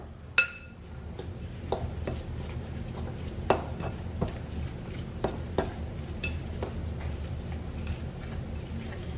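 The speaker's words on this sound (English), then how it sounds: "I'm just going to mix it all together." Salmon patty mixture with mayo and garlic salt being stirred in a bowl, giving scattered light clinks and taps of a utensil against the dish over a soft background.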